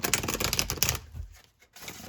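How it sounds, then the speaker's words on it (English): A deck of tarot cards riffled in a quick, dense burst of close papery flutter lasting about a second, followed by a few softer card taps, no talking. "I'm going to give these cards a couple more shuffles"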